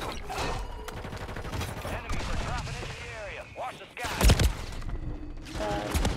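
Dense, rapid bursts of video game gunfire in a firefight, including a RAM-7 rifle loadout, crackle over loud excited talk, swelling into sharper heavy blasts near the middle and end.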